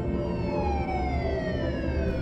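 An ambulance siren wails steadily with a slowly sliding tone over a low rumble, moderately loud and continuous throughout, with no voices.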